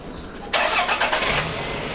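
A car engine cranks and catches, then settles into a rough, steady idle close by.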